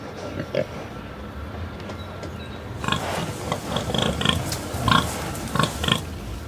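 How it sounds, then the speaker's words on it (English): A pig grunts in several short bursts over a background hiss, getting louder and more frequent in the second half. "I choose pig. Then I make a recording."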